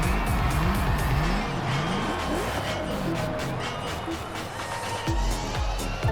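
A Ford Mustang American muscle car drag racing in the video game The Crew Motorfest, engine revving hard through rising gear shifts with tire squeal, loud and continuous across the run.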